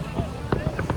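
Fireworks on New Year's Eve in Budapest pop in a few short, distant bursts beneath a steady crowd murmur, with voices talking nearby.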